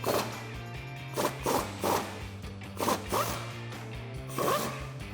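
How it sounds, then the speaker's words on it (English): Ratchet fitted with an 18mm socket unthreading a suspension bolt on a Jeep Wrangler JL, heard as about six close, sharp ratcheting zips in quick irregular bursts over a low steady hum. "Now you're going to be using an 18mm socket to do this."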